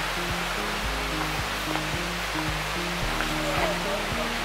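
Steady broadband rush of a river flowing past a wooded campground site near Gatlinburg, Tennessee, continuous and fairly close, with low mechanical thumps and hum running beneath it.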